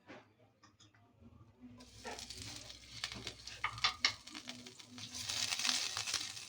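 Butter melting in a hot pan, starting with a few quiet clinks before building into a steady, close sizzle with spattering crackles that grows louder toward the end.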